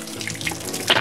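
Cold water pours and splashes steadily while someone bathes, a loud, close, continuous gush that swells briefly near the end.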